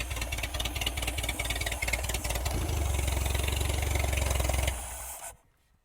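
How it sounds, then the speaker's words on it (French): An old pontoon boat engine back running after 30 years of storage, idling loud and close with a steady rough throb that rises slightly before shutting off abruptly into silence. "moteur qui a démarré"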